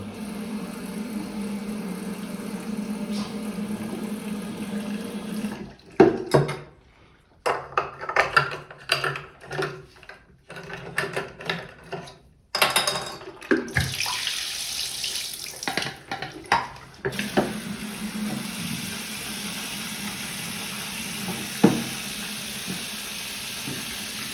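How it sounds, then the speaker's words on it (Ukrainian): Tap water runs steadily into a sink while developed photographic film is rinsed, a constant close hiss of flowing water broken by gaps and clattering handling noises as the tank is moved and shaken. "Просто кілька разів добре промити водою."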